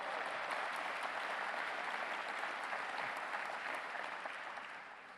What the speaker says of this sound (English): you can give Rita a round of applause